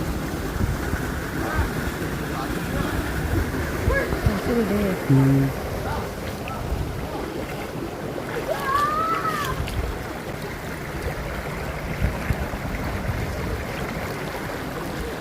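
Steady broadband rush of a mountain waterfall at Vellarimedu in Kollengode, Palakkad, in monsoon forest, continuous and fairly loud, with brief faint tonal chirps partway through.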